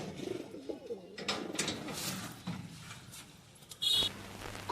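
Pigeons of mixed breeds coo softly in a loft, low throaty bursts early on amid wing flutters and shuffling, with a brief sharp chirp near the end.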